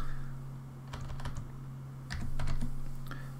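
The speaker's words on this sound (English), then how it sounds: "if I start typing this in, and I'll explain it as I go" Typing on a computer keyboard: two bursts of quick, close key clicks with a pause between, over a steady low electrical hum and no talking.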